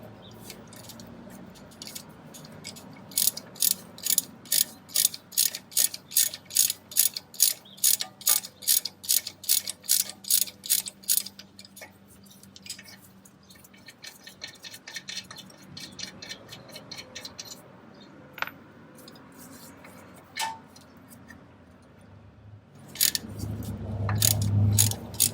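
A ratchet works loose the 21mm caliper bracket bolts on a Jeep Wrangler, a fast run of sharp, evenly spaced clicks followed by scattered slower clicks and clanks of tools.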